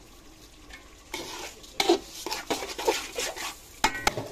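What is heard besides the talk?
beef being stir-fried in a pot for biryani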